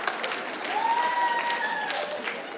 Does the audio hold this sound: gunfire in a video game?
no